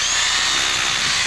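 A power drill bores an anchor hole into the deck beside a commercial swimming pool for a dome cover, its high steady whine running loud and unbroken from start to finish with no talk over it.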